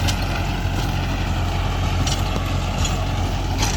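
A 2023 Mahindra Yuvo 575 tractor engine runs steadily with a rotavator attached, a loud continuous low rumble that holds constant RPM throughout, with no dips or pauses and no talk over it.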